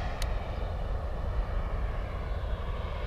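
A radio-controlled turbine jet model of a Canberra flies a landing circuit, giving a steady, loud roaring drone that holds even and continuous throughout, with no talk over it.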